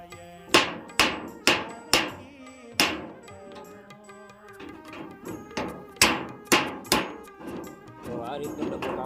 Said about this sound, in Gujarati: આનાથી આપણે ડબ્બામાં વિંધા પાડવાના છે, અને અહીંથી આપણે કાપો પાડવાનો છે